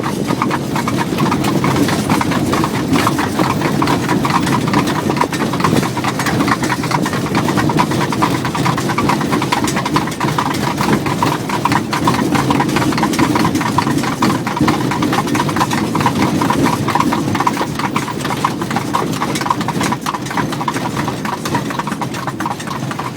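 Horse hooves clip-clop steadily and close during an Amish buggy ride in Pennsylvania Amish country, an even rhythmic trot layered with rolling wheel rumble throughout.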